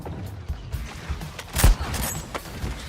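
Gunfire in a Suicide Squad-style action video game set in Arkham: low thuds and scattered shots under a steady game soundscape, with one louder blast standing out midway.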